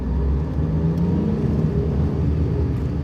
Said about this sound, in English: Car behind me